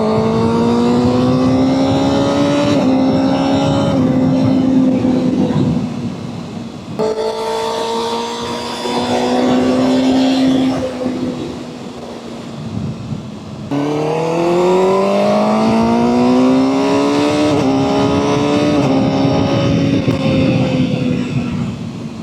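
A ZX6 40th anniversary edition motorcycle with an inline four engine revs up through several gears, its smooth high-pitched wail rising and dropping at each shift, loud and near, easing off midway before pulling hard again.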